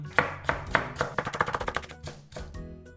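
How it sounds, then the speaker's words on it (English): A knife slices a scallion diagonally on a cutting board in a home kitchen, a quick run of crisp, close, evenly spaced chopping taps that speeds up and then slows to a few final cuts. "Then you can cut this however you want, but I kind of like to cut it diagonally."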